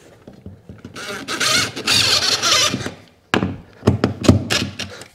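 Screws driven into wood to hold a fitting in a new-build house, heard as a sustained, loud whirring drill burst followed by a pause, then a series of sharp taps and short grinding bursts close by.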